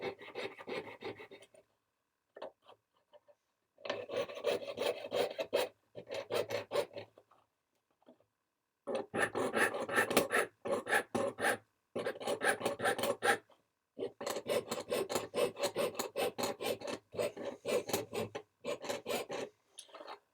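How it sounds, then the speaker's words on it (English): A jeweler's saw cuts metal on a wooden bench pin, making quiet rasping strokes in irregular bursts separated by short pauses. "Straight lines are not the easiest to cut with the jeweler saw"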